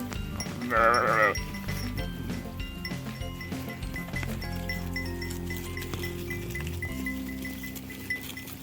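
A sheep lets out a loud, quavering bleat close by, followed by fainter bleats and low calls from a flock in the background.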